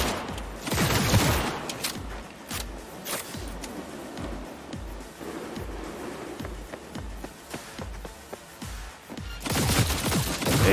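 Gunfire in Cyberpunk 2077, with bursts of shots at the start and near the end and scattered single cracks between, all mixed into busy game sound.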